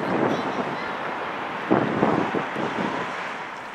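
Outdoor wind buffets a microphone during a walk near Peter and Paul Fortress in St. Petersburg, a loud rumbling roar with gusty swells and brief louder bursts, steady throughout.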